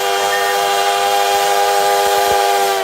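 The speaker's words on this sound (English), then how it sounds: "I hear the train a coming" A steam train whistle blows loud and close, one sustained, unbroken, harmonically rich tone with a hiss of steam beneath it, heard alone without speech.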